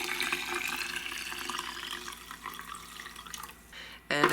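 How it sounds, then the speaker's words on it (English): Crystal elixir water trickles steadily through a small funnel into little glass dropper bottles, a continuous close pour that ends with a brief brighter splash or clink. "I'm gonna pour it into these little glass bottles that have droppers"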